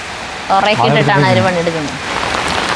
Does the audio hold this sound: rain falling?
yes